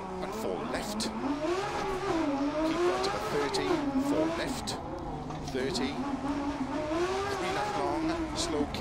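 Rally car engine in Dirt Rally 2.0, racing a Monte Carlo stage in a BMW M1: a steady, loud engine note that rises and falls through the gears with brief tire noise, while someone talks over it throughout.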